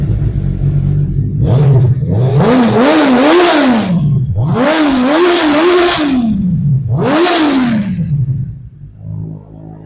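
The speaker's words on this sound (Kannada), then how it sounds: "ಬನ್ನಿ ಗಾಡಿದು ಎಕ್ಸಾಸ್ಟ್ ನೋಟ್ ಕೇಳೋಣ" A 2022 Suzuki Hayabusa superbike with about 13,000 km on it revs close by in four loud bursts, the exhaust note rising and falling between throttle blips before it settles to a lower idle.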